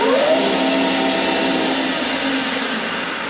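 A lathe motor driven by a variable frequency drive speeds up hard, giving a loud, continuous whirring whine with a rising electrical tone, heard close and alone.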